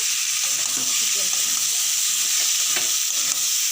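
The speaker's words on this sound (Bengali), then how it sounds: "এর উপর আমি চিকেনটা দিয়ে দিচ্ছি, কিমা করে রাখা চিকেন" Minced chicken fries in oil that has separated from the spice paste, a loud, steady close sizzle with soft stirring scrapes throughout.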